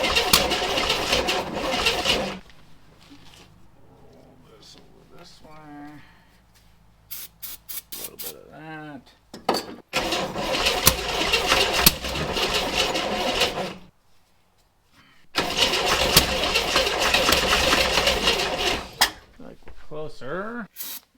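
An old Chevy Corvair engine that has not run in over 30 years cranking in loud extended bursts, briefly catching and sputtering, with gaps of quiet between attempts and a person talking in between.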